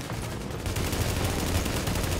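Gunfire in the video game The Division, a dense, continuous rattle of rapid shots that rises after a brief moment and keeps going loud and unbroken.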